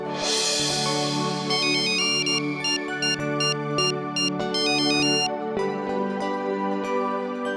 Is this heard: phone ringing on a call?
yes